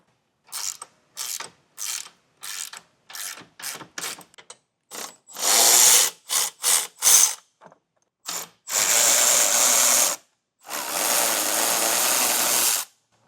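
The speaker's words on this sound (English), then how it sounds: "We just need access to these two bolts right here. Get a 15mm socket" Ratchet wrench fitted with a 15mm socket backing out bolts on a vehicle bumper while mounting a base plate kit: a series of short, close, crisp clicking bursts, followed by two long sustained ratcheting runs, with no talk.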